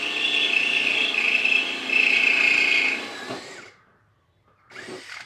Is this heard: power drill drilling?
yes